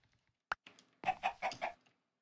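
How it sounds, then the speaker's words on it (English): A chicken clucking in the Minecraft video game, a sharp click followed by a burst of four quick, fairly loud clucks in a row, then silence. "Now I have a chicken"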